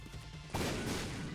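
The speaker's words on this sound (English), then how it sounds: "do you see that extra explosion there? That's what happens if you mix poison gas with the fire" In The Binding of Isaac: Repentance+, poison gas meets fire and sets off an explosion: a sudden, loud burst that cuts in after faint game tones and holds as a dense, roaring blast.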